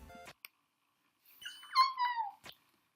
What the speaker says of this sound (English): Is that annoying dog?